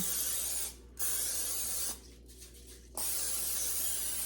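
Three bursts of cooking spray hiss close up onto an aluminum cake pan, the last two longer, separated by short pauses with a low steady hum underneath.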